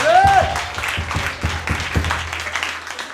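A church congregation at a prayer service breaks into warm, steady applause for the Lord, close and full for about three seconds, with a brief voice heard at the start.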